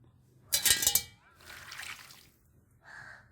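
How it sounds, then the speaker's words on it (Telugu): Water is poured out of a steel milk vessel with burnt milk scorched on its bottom, scrubbed with an iron scrubber, giving a loud splashing gush, then a softer pouring slosh and a brief final trickle, no talk. "ఇలా రబ్ చేసుకున్న తర్వాత ఈ వాటర్ని బయట వంపేసుకుందాం."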